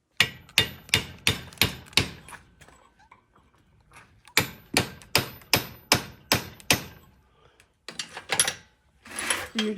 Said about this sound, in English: I'll put it over the anvil and put my touch mark on the back side